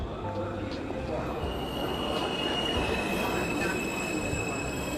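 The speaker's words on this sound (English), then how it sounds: "There's the train." A train rumbles past with squealing wheels in a virtual reality flight app, a steady loud roll with high metallic whines layered over a low constant drone.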